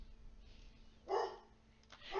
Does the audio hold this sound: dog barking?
yes